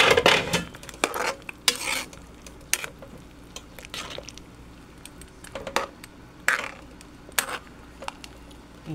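Irregular scraping and clinking of a utensil against a pot of boiling chicken curry with coconut milk, with soft bubbling between strokes, close up and without talk.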